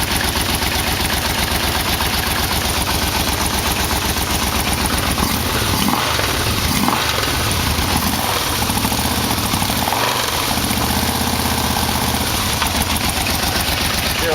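A Yamaha V-Max motorcycle engine idles loud and close with a small exhaust leak, giving a steady, throbbing rumble with a slight fluttering pulse and a few sharper puffs.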